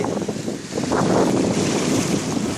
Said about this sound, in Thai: ก็คลื่นลมในทะเลค่อนข้างแรงนะครับ สังเกตว่ามีลมมาตลอด